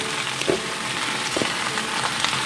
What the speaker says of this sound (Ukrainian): Чекаємо, будемо обсмажувати, щоб вони вдвічі зменшилися у розмірі.